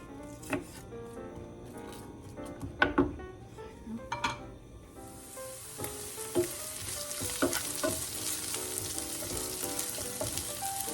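Onion hits hot olive oil in a pan and sizzles, a steady broadband hiss that swells loudly about halfway through, with scattered clinks and stirring scrapes earlier on.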